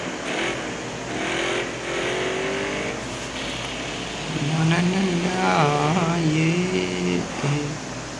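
A car driving in the mobile game Car Parking Multiplayer, with a steady synthetic engine hum that rises and falls through several revs as it turns, loud and close throughout.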